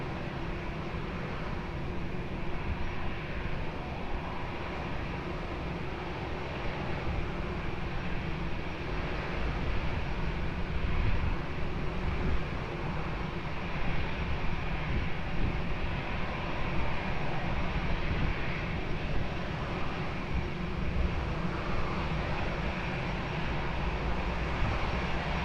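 An airplane taking off from runway 20 at Lisbon Airport, a steady broadband engine roar at a distance that swells gently and holds for the full length, with no voices.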